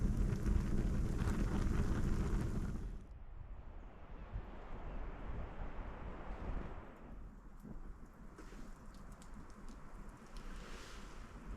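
Strong blizzard wind at a winter campsite on top of a ruin: a loud, dense roar for the first three seconds, then a softer, steadier rush with lighter gusts.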